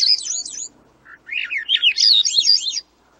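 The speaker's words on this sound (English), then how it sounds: "The song of a Swainson's thrush spirals upward" Swainson's thrush singing upward-spiraling flutelike phrases, a short bright phrase, a brief pause, then a longer rising run of whistled notes, clear and fairly close with no other sounds.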